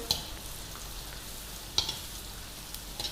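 Salt-and-pepper seasoned squid, dusted and dropped into hot oil, fries with a steady close sizzle, broken by a few sharp pops and crackles.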